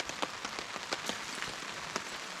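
Rain patters steadily at a riverside campsite in the Delaware Water Gap, a soft, even hiss broken by scattered sharper drops, faint and with no voices.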